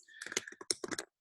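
Quick burst of typing on a computer keyboard, a rapid run of soft clicking keystrokes lasting about a second, close and fairly faint with no talk.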